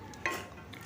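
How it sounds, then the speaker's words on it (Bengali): A spoon stirs a kundri (ivy gourd) curry with mung dal fritters in a pan, one brief scrape over a soft, quiet sizzle. "আবারও ভালো করে মিশিয়ে দিচ্ছি কুঁদরির তরকারির সাথে।"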